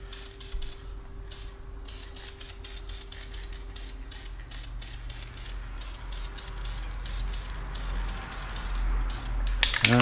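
Clear coat is sprayed from a spray can onto a wheel in quick repeated hissing bursts with a mechanical rattle beneath, growing louder toward the end.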